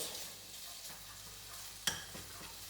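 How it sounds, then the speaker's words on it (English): Bacon frying in a pan with oil, soft steady sizzle close by, stirred with a utensil that gives one sharp scrape or clink partway through; quiet and without talk. "let that heat up for a little bit, and then get the bacon in. Mix that one about"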